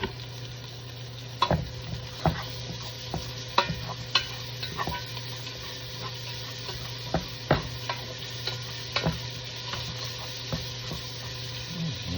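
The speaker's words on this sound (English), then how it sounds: "gonna throw my nice bacon back in there with my onions and my peppers. I'm gonna saute them." Bacon sautéing with onions and peppers in a pan, a steady sizzle with repeated sharp clicks and scrapes of stirring utensils throughout, close and moderately loud with no talking.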